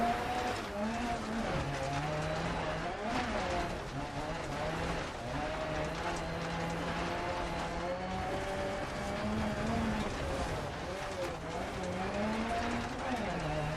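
A Ford Sierra Cosworth RS500 rally car drives in the game Dirt Rally, its engine droning steadily and rising and falling in pitch through gear changes, close and continuous, while someone talks over it.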